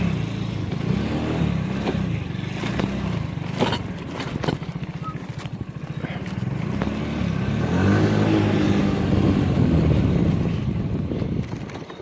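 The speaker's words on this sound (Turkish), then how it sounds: "Bu sefer de motorla ormana daldık gördüğünüz gibi." A motorcycle rides into a forest, its engine a steady low drone close by with revving swells, wind buffeting and bumps, while someone talks over it.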